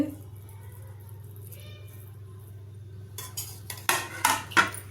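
Egg dum biryani is served onto a plate after a quiet hum, ending in a few sharp clinks and scrapes of a spoon against the pot and plate, close by.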